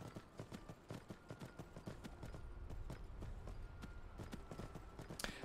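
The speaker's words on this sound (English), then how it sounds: "It was just a speckly horse." Rhythmic clip-clop of a speckled horse's hooves trotting at a steady pace in Skyrim, fairly faint, with quick regular beats and no talking.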